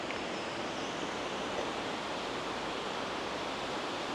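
A river rushes steadily nearby, a dense, even wash of flowing water that stays constant throughout with no voices.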